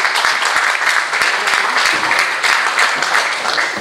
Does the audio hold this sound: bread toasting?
no